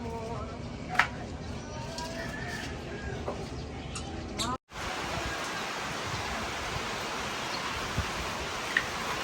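Steady hiss of rain with gusting wind, a dense wash of noise throughout, with a few faint bird calls in the background.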